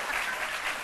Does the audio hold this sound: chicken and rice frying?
no